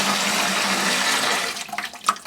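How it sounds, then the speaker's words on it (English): Hot water pours into a plastic wine kit fermenter bucket, a steady rushing gush at close range that runs loud and even for about a second and a half before trickling off into scattered splashes and drips. "We're going to start out by putting in some hot water."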